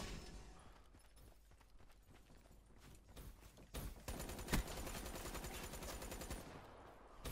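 Rapid gunfire from a Call of Duty Black Ops 3 gun game match, a dense stream of automatic shots that grows louder and more continuous in the second half, with a sharp burst near the middle.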